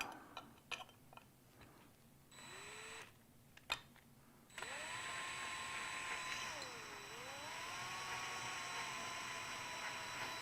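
A small drill spins up on a motorcycle gauge part after a few scattered clicks and handling noises, its whine rising, briefly dipping under load, then holding steady and close.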